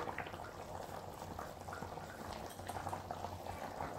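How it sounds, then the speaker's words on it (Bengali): Thin chicken curry broth simmers in a covered pot, a soft continuous bubbling and gentle blubbing at low volume, steady throughout with no voices. "তো দেখো চিকেনের ঝোল ফুটে এসছে"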